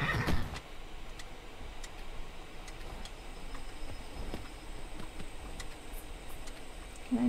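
A horse neighs loudly at the start in the video game Skyrim, then quieter shuffling and soft thuds follow over a steady background.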